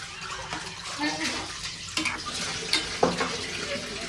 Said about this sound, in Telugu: ఇప్పుడు నువ్వుల పొడి వేసుకున్నాక మంచిగా కలుపుకోవాలి దీన్ని